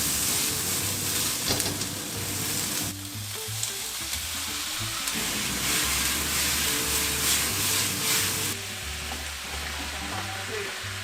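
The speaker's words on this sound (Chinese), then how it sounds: "走，来了，煮3杯鸡的时间来了。" Three-cup chicken with whole garlic, king oyster mushrooms, rice blood cake and ginger fries in a pan with a steady, loud, hissing sizzle over a low rumble, and a brief spoken comment partway through.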